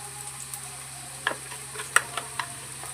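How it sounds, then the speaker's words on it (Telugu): Mustard seeds and tempering spices sizzle in hot oil in a pan, a steady close hiss broken by scattered sharp pops and crackles. "ఆయిల్ హీట్ అయిందండి. ఇందులో తాలింపు సరుకులు వేయాలి."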